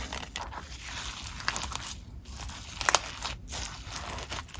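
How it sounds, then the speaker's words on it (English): Bluish purple crunchy slime packed with add-ins is squeezed and pressed, giving irregular crackles, crinkles and small pops spread over several seconds, close up with no talking. "It's a bluish purple crunchy slime with a bunch of different add-ins in it."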